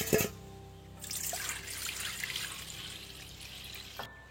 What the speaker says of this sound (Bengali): জলটাকে ফেলে দিয়ে আবার জল দেবো, দিয়ে আমি এটাকে আধা ঘন্টা ভিজিয়ে রাখবো